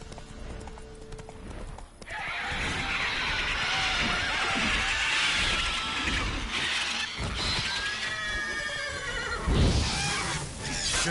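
Roach the horse gallops with steady clip-clop hoofbeats and lets out a loud neigh and whinny near the end, over busy video game battle ambience with no talk.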